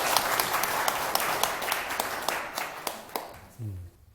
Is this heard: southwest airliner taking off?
no